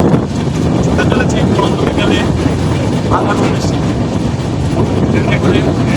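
The Madhumati Express passenger train from Kamalapur to Bhanga runs with a loud, continuous rumble and wind buffeting close to the microphone, steady throughout, with a voice faintly present underneath.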